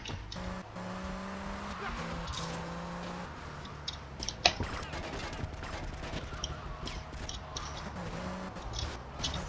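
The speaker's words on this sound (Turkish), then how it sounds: "Bayağı bir ateş ettim o arabaya." Gunfire aimed at a car in GTA Vice City, a string of sharp game gunshots mixed with engine drone and tire noise, one louder crack standing out midway.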